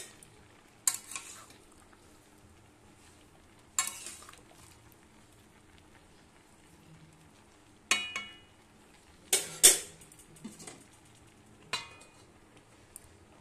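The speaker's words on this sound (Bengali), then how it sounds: "টমেটোটা মিশিয়ে দিচ্ছি।" Chopped tomatoes being stirred and fried in a pan, heard as a few quiet, separate scraping bursts spaced several seconds apart over a faint kitchen background.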